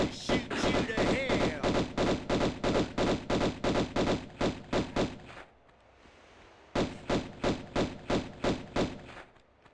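A steady string of evenly spaced pistol shots from Lara's guns in Tomb Raider 1 Remastered, loud and close, pausing briefly before another rhythmic volley resumes.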